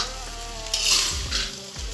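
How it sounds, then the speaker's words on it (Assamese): Mutton dry-frying in a karahi gives a close, steady sizzle, broken by a few scraping stirs of the spoon against the pan. "এয়া মই মাটন ফ্ৰাই কৰি আছোঁ।"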